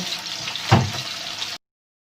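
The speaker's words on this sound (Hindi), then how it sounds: "जब तक हमारे ऑनियन फ्राई हो रहे हैं" Onions sizzle in hot oil in a karahi, a close, steady hiss with a brief louder spit partway through, cut off abruptly after about one and a half seconds.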